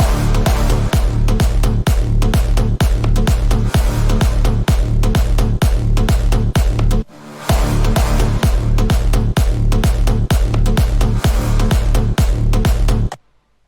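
A bigroom EDM drop in the full mix, pounding steady four-on-the-floor kicks under bright synth layers, loud throughout with a short break midway before ending abruptly.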